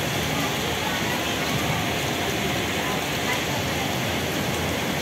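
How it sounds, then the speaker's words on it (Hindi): Heavy rain pours down in a dense, steady wash of hiss and patter that stays loud and unbroken throughout, with no clear pauses or individual drops standing out. "लेकिन यहाँ पर बारिश हो रहा है बहुत"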